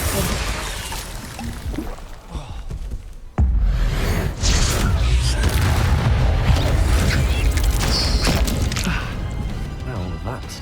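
Repeated spell blasts from the game Hogwarts Legacy, a loud sudden boom followed by dense crashing, whooshing impacts and thuds, with a voice calling out spell names over the action.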